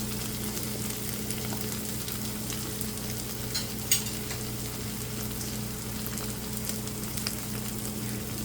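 Mutton keema fries in a pan, Punjabi masala style, after coriander and green onion are added on top, giving a steady, even sizzle with a faint low hum and one brief clatter partway through.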